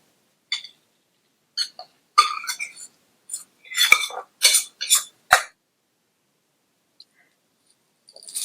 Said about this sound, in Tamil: ஸ்டவ் சிம்ல வச்சுட்டு சாதம் சூடு ஏறுற வரையும் நல்லா கிண்டி கொடுங்க